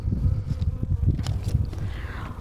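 Dense, steady buzzing of many honeybees in an open hive between the frames, a low droning hum with scattered higher whirs as individual bees fly past.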